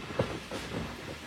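Joydebpur 4 commuter train bound for Dhaka rolls into Banani railway station, a faint, low rumble of rail cars with a soft thump near the start, no voices.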